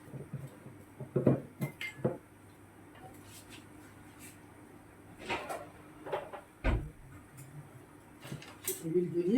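A spoon stirs tomato pizza sauce seasoned with paprika in a dish, giving irregular clinks and scrapes against the vessel in short clusters. Quiet speech comes and goes between them.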